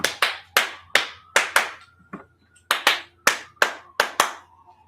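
Sharp hand claps ring out alone and close, about a dozen in two quick bursts with a short pause between them, each one crisp and loud with a brief decay.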